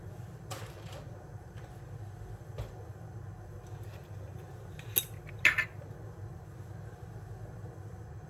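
While a prawn and egg noodle soup is being cooked, a pan and cutlery are handled: sparse, faint metallic clinks and taps over a low kitchen hum, with a cluster of sharper clatters near the end.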